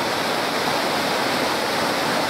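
A waterfall pours in the rain, a loud, steady, unbroken roar of rushing water filling the whole scene up close with no other sounds.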